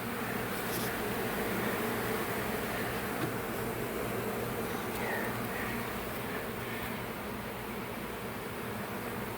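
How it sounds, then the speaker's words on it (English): A swarm of honeybees buzzes during a hive removal, a dense, steady hum of many wings close by, continuous and unbroken with no talk. "Look at all these bees over here."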